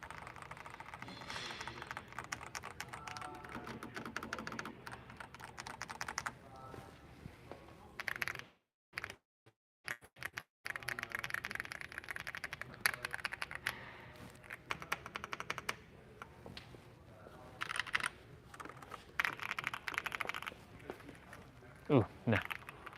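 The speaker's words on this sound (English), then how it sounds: "I like some of these keyboards, they're nice. Too loud." Typing on several computer keyboards being tried out one after another, bursts of clicky keystrokes at close range with talk over much of it and a brief pause midway.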